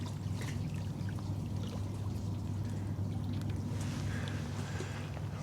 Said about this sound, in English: It's peaceful with those waves coming up against the shoreline.